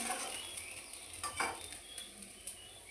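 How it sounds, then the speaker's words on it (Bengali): Soya chunk curry is stirred and sautéed in a pan, with scattered spoon scrapes and light metallic knocks over a faint sizzle, fairly quiet and with no talking. "এটা দিয়ে এখন কষাবো, ভালো করে কষাবো।"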